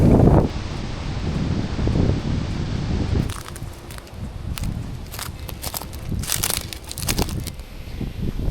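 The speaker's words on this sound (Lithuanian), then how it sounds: "Saulė, bet labai vėjuota ir dar vėjas bus iki 7, o dabar po 5" Strong, gusty wind on an outdoor kayak trip across the Baltic in autumn buffets the microphone with low roaring rumble, first heavy and steady, then easing into rustling, crinkling gusts, no speech.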